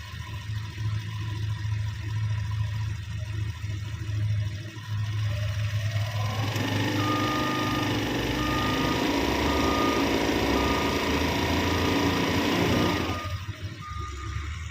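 A scooter engine idling steadily, then revved with the throttle into a sustained, louder whine for several seconds before dropping back to idle, close by with no talking.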